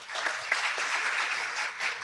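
An evening audience at a talk about studying and working in Canada and Australia applauds to welcome a speaker, a steady wash of many hands clapping at moderate distance.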